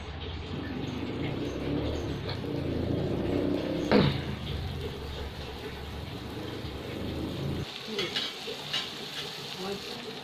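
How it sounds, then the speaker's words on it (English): Butter melting and sizzling in a pan for butter pepper chicken: a steady, close sizzle and crackle that goes on throughout, with one sharp clink partway through, then a thinner, quieter crackle near the end, with no talk. "So first we're gonna add in butter inside. We gotta wait till the butter melts."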